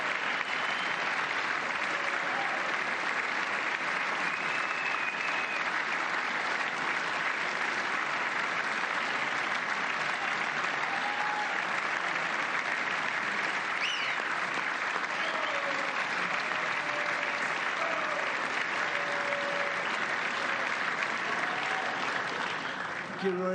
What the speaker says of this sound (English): Yeah, this is a lot of clapping.